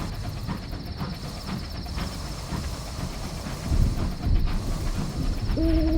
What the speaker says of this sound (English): It's an owl.